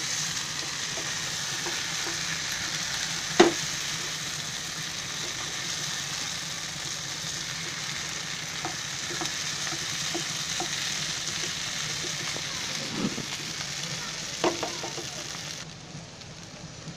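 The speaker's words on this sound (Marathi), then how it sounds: "आता ही थोडी हलवायची," Potato bhaji cooking in a frying pan gives a long, even, hissing sizzle, with a few soft clinks and scrapes where it is stirred. The sound is close and moderate, with no voices.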